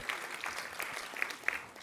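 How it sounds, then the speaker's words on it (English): A graduation ceremony crowd at Asia Pacific University claps in a short, fairly quiet burst, individual hand claps popping out of a soft, even patter. "You deserve a round of applause for that."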